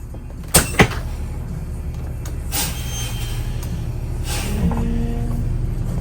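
Motor coach pulling away from its home site in Brazoria County area, a couple of sharp clunks at the start, then a steady low engine rumble growing slightly as it moves off.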